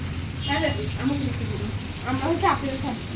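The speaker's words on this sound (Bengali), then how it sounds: "আর এখানে মাছ ভাজা" Fish frying in a pan gives a soft continuous sizzle at close range, partly covered by a person talking over it.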